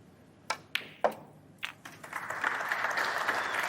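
A few sharp, separate claps ring out at a snooker championship final, then build into warm, sustained audience applause after a safety shot.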